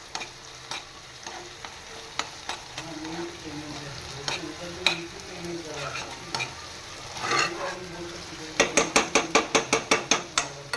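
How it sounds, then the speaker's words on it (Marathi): Onions frying for pav bhaji are stirred steadily in a pan, giving a continuous sizzle with scraping strokes, ending in a quick run of sharp spatula taps against the pan. "सतत कांदा ढवळून घ्यायचा आहे मस्तपैकी."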